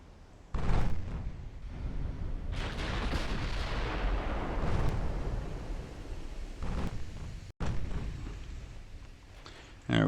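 Heavy naval gunfire from warships in Ultimate Admiral: Dreadnoughts, a loud sustained barrage of booming salvos with rumbling low end, briefly cut to silence near the end before another blast.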